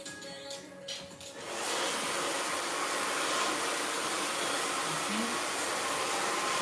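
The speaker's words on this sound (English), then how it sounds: "you put the blow dryer on it again." A blow dryer, used on hair during braiding, switches on after a moment of quieter background and blows with a steady, loud whooshing roar until the end.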